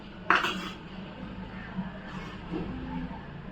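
Roasted dry fruits are scooped out of a pan into a bowl while making semiya payasam, with one sharp metal clank of spoon on pan followed by quieter scraping and light clinks.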